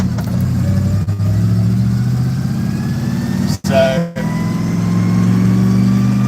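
A truck engine with an exhaust leak rumbles loud and close while driving, a low, steady drone with brief dips as gears change, and someone speaks briefly over it.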